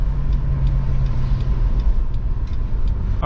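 A VR6-powered Jetta Wagon sits running with a deep, steady rumble and a low throb, close and unbroken, with no talking.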